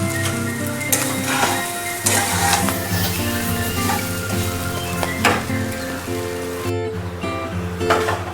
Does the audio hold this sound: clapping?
no